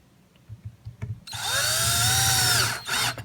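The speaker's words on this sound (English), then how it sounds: "Always be careful when you're putting your screws in not to strip them." A power drill whirs up and runs steadily for about a second and a half, driving screws into a Ridgid orbital sander during a repair, with a brief stop and short restart, preceded by faint handling clicks.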